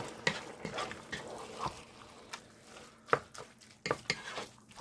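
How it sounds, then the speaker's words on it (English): Ground turkey and sausage being mashed in a pot with a plastic potato masher, a series of soft, irregular thumps and scrapes against the pot, fairly quiet and close, with no talking. "I tried to mash as much of the chunk meat out of there as I could"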